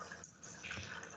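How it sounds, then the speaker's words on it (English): Faint water sound, a soft trickle or drip running steadily throughout with no voices. "I can hear water."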